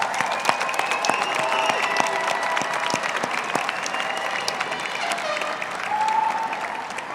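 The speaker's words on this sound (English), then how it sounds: "let's have one more round of applause for all of our doctoral degree recipients from all of our colleges and schools" A round of applause at a university graduate commencement ceremony for doctoral degree recipients: a large hall audience clapping steadily and somewhat distantly, with scattered louder claps and faint tonal hum in the background.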